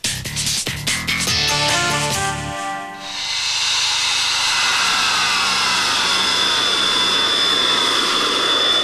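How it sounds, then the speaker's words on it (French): A fighter jet flies low over a national road in Switzerland: after some brief clattering, a loud, sustained roaring rush rises and fills the rest of the clip without fading. "Un avion de chasse qui traverse une route nationale."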